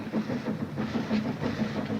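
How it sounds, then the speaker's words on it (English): A train rolls into a small-town station, a steady rumbling clatter of wheels and cars filling the scene at moderate loudness with no voices over it. "Train's coming, Mom."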